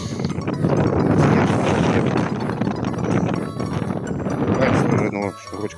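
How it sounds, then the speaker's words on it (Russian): Strong wind roars steadily across a frozen lake during ice fishing in a snowstorm, buffeting the microphone with loud, continuous gusty noise that drops off briefly near the end. "Метет сегодня ветер."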